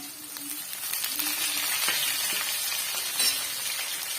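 Shallots and curry leaves sauté in a pan, a continuous moderate sizzle with faint occasional stirring clicks.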